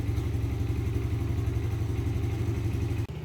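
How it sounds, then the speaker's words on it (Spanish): Motorcycle engine running after being started, a steady close mechanical chugging and clatter that holds for about three seconds, then cuts sharply before a brief continuation. "Procedemos a arrancar la motocicleta."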